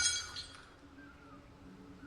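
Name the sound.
glass bottle falling and breaking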